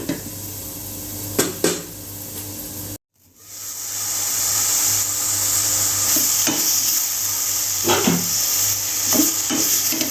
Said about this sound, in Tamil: ஒரு 5 நிமிஷம் நல்லா வதங்கிட்டுங்க பாவக்காய்.